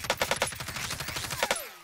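Rapid automatic gunfire in the Call of Duty Warzone video game, a dense burst of shots close and loud for most of the moment before cutting off into quiet.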